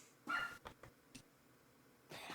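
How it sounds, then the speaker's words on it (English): A puppy gives a few faint, distant yips and barks, one short high burst followed by scattered softer ones, behind a quiet room. "I hear a puppy"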